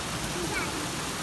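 Rain falling over an ocean beach, a steady, even hiss of drops filling the whole moment without breaks, fairly close, with no clear speech on top.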